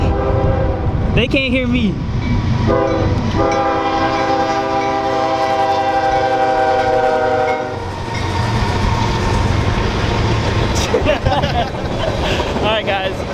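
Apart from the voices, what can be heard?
train passing by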